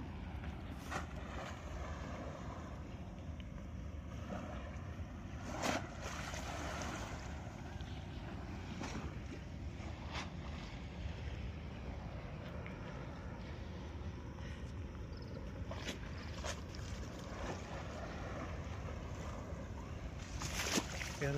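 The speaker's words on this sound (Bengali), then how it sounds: "সমুদ্রের ঢেউ।" Sea waves wash in at the Yokohama seaside, a faint, continuous low rumble mixed with wind buffeting the microphone, with occasional soft surges and no talking.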